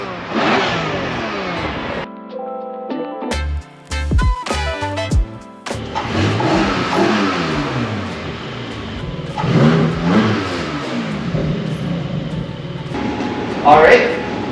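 A stock-exhaust Porsche GT4 engine revs and drones, rising and falling in loud bursts with a sharp blip near the middle, while people talk over much of it.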